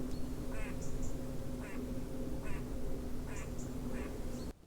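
A squirrel gives a series of about five short, nasal, quack-like calls at regular intervals, moderately close, over a steady low hum.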